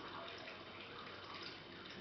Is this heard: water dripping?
yes